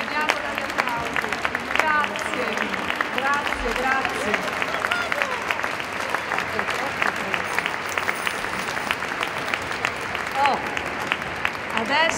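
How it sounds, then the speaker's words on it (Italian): Audience at a Christmas concert applauds steadily as a choir leaves the stage, dense continuous clapping with voices audible over it. "il coro quando lascia il palcoscenico è accompagnato dagli applausi"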